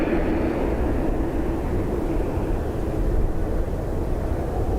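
A Dash 8 turboprop drones steadily at Dublin Airport on a high-wind day, its low broadband roar continuous and fairly loud throughout, with no distinct events standing out.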